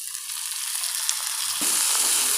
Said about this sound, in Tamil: நல்லா வதக்கிக்கோங்க இப்போ நாம் தேவையான உப்பு சேர்த்துக்கலாங்க